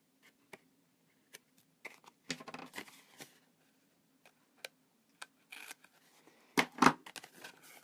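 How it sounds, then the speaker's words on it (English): Metal snips cut through a strip of tear tape during papercraft work on an Easter carrot box, giving a series of sharp, close clicks and snaps. Scattered irregular cuts build to a louder cluster near the end, with no talking. "I'm going to just cut that with my snips"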